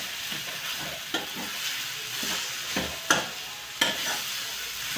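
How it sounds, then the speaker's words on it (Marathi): Tomatoes fry on high gas while being stirred, giving a steady, close sizzle broken by a few louder scraping knocks of the spoon in the pan. No one speaks. "पूर्ण मोठ्या गॅसवर एक वेळ पूर्ण मिक्स करून टाकू आपण"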